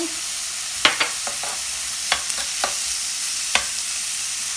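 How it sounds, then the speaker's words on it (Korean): Butter and shrimp for a milk butter pasta sizzle in a pan under a constant bright hiss, with scattered scraping clicks from the stirring utensil, close and with no talk. "여기다가 버터를 조금 넣을게요"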